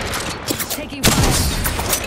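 Bursts of rapid gunfire crackle in Apex Legends, with a heavier volley hitting about halfway through and continuing loud and dense to the end, close and overlapping.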